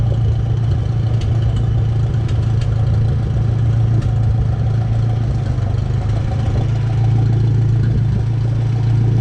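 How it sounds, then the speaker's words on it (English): International 300 tractor engine idling nearby, a steady low mechanical thrum with light clatter that holds evenly throughout, with no speech over it. "the reason why I started the tractor"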